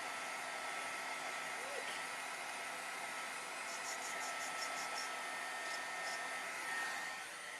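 A hair dryer blows a steady, even whoosh at moderate distance while drying watercolor paint, running alone without talk, with a few faint clicks partway through.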